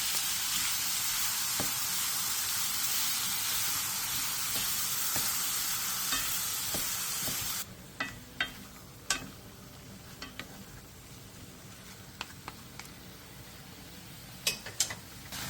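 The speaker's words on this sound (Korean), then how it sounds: "고기의 겉면이 어느 정도 익으면 묵은지와 설탕 반스푼을 넣고 센 불에서 5분 정도 볶아주세요" Meat, aged kimchi and a half spoon of sugar sizzle loudly in a pan over high heat, a steady frying hiss that drops off halfway, leaving scattered clicks and scrapes of stirring.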